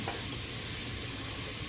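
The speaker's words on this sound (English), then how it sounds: "we're gonna stir it to prevent the bottom of the sausage from burning" Sausage frying in a pan is stirred, with a steady hiss of sizzling fat under soft scraping and clatter from the spoon, close and continuous.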